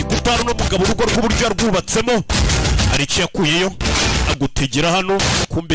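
Gunfire from an action film scene sounds in bursts beneath continuous loud, animated narration that dominates throughout.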